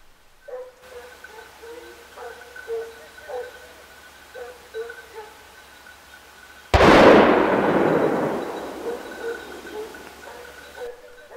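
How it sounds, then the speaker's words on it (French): During a wild boar hunt in Ardèche, France, a single sharp gunshot cracks out and rolls away in a long echo, after a quiet stretch with a few soft hooting calls in the distance. "Le coup de feu qui vient de claquer"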